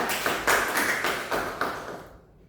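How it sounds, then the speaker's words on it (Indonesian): Classroom students clapping for a student group, a short burst of several hands with a few distinct pulses, fairly close, fading out after about two seconds. "Tepuk tangan buat kelompok 3."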